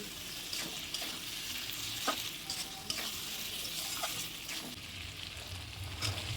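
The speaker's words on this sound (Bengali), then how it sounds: "এবার এই যে মটন কিমাটা দিয়ে দেবো। দেখো মশলা দিয়ে তেল ছেড়ে দিয়েছে, তারপর মটন কিমাটা দিয়ে বেশ আবার কষিয়ে নিতে হবে।" Mutton mince sautéed with spices in oil in a pan, a continuous low sizzle broken by intermittent scraping stirs, with no one talking.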